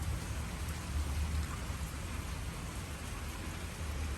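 Steady rain falls around a front porch in Waskom, Texas, making an even, continuous hiss with a low rumble beneath it. No one speaks.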